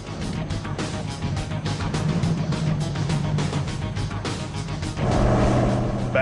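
A Plymouth Superbird muscle car, one of 25 in existence, rumbles along at a steady loud drone, its engine note rising in strength near the end.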